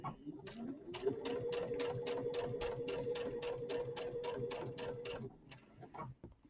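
A sewing machine stitches a quarter-inch seam along quilt binding, running steadily in a fast even rhythm of close, clear needle strokes for about five seconds before stopping, with no talking.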